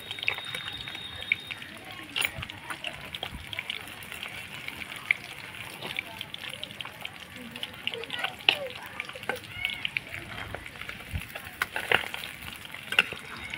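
Tilapia fish frying in hot oil in a home kitchen, a steady soft crackle and sizzle with scattered sharper pops and occasional stirring, while people talk and children can be heard nearby.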